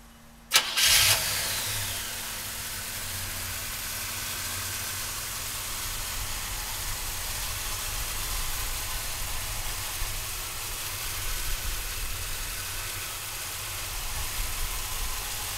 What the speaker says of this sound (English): let's fire this big block up